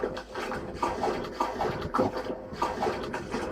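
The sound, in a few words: water flowing through a pipe in a horror video game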